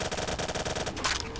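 Carbine firing rapid automatic bursts in a zombies shooter game, a fast steady stream of loud close shots for about a second before it stops.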